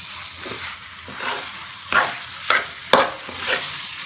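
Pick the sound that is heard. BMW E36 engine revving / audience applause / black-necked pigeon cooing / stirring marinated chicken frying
stirring marinated chicken frying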